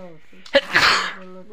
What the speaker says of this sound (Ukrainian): Я щось чхаю.